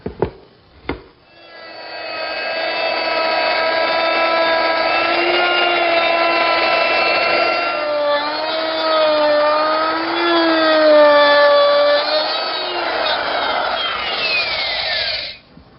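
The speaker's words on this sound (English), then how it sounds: "I'm going to start with my router at one corner and move back and forth until I get to the other corner" A router cutting into wood for a toy chest inlay gives a loud, steady high-pitched whine that wavers in pitch as it moves back and forth, then stops abruptly at the end.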